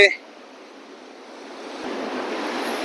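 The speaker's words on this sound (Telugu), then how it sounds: "వాటర్ తక్కువకున్నా కూడా బీభత్సంగా ప్రవహిస్తుంది ఇక్కడ వాటర్" River water rushing strongly over rocks along a mountain trail in Nepal, a steady broadband roar that swells louder through the clip after a brief opening noise.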